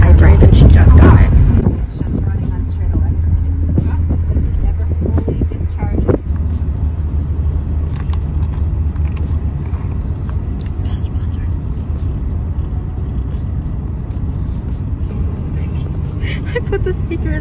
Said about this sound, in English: That's the gas engine. That's the electric motor.